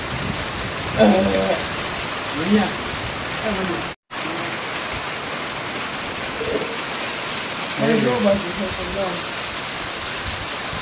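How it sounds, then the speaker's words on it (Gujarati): Steady, heavy unseasonal rainfall roars continuously, with short bursts of nearby talk and a momentary dropout midway. "જોઈ લે ચાલુ થઈ ગયો છાંટા જોરદાર માવઠું"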